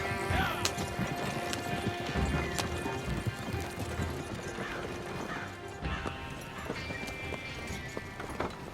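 Horses in Red Dead Redemption 2 drawing a wagon to a halt: steady clip-clop of hooves with occasional whinnies and snorts, wooden creaks and knocks, fairly quiet and continuous with no voices.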